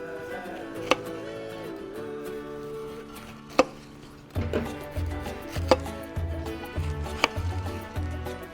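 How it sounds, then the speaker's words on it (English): A knife chops through a pineapple being trimmed for fruit and shrimp kabob skewers, giving a few sharp, separate cuts and then a quicker run of chopping strokes over steady background music. "now I'm gonna prepare our pineapple for our skewers"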